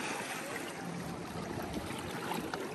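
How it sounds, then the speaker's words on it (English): Ocean waves wash steadily off the Puerto Rico coast near a yacht, a continuous broadband rush of surf and water that holds at a moderate level with no talk over it. "Here comes the waves"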